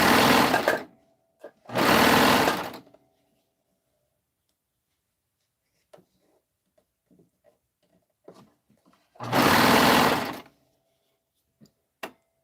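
Sewing machine sewing a seam, three short bursts of whirring stitching, each a second or so long, separated by quiet pauses with faint clicks and handling sounds.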